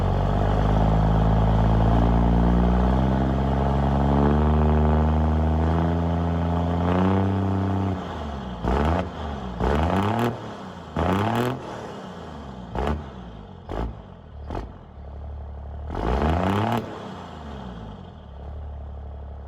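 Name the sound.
diesel engine revving with straight pipe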